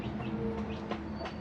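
Chicken clucking beside a thatched village hut in the Vanni countryside, short soft calls repeating at close range over steady outdoor background noise.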